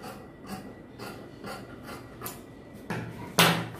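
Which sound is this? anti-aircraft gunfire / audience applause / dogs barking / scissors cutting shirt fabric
scissors cutting shirt fabric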